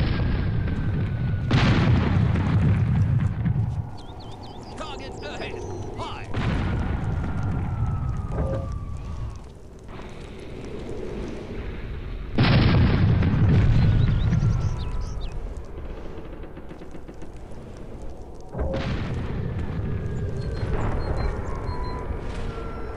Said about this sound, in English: Fire! Load cannonballs!